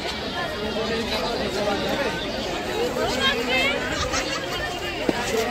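Continuous babble of many visitors crowds the air at Eco Park, a close, even hubbub of mingled voices with one brief knock near the end.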